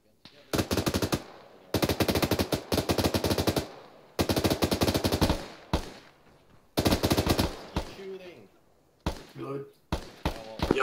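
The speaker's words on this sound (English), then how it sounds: "Shooting." Gunfire from a team shooting exercise comes in rapid automatic bursts, loud and close, separated by short pauses, with a few lighter single shots near the end and voices faintly present.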